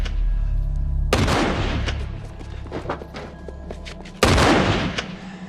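Gunfire in a scene from The Walking Dead, with a loud burst of shots and a heavy boom, then a second sharp blast a few seconds later over a dense, rumbling background.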